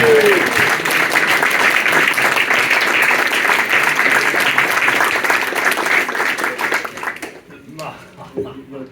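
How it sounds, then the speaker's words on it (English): Loud, sustained applause from an audience at a retro video game developer talk, steady for several seconds before tapering off into scattered claps and quiet. "Round of applause for Andrew as well for doing these"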